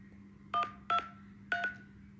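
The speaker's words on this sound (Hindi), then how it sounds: "अब यू फ़ोन के हेल्पलाइन पे कॉल करता हूँ।" Three short DTMF keypad tones sound in turn as a phone dials the U Fone helpline, each a brief two-pitch beep with uneven gaps, clear and close over a faint steady hum.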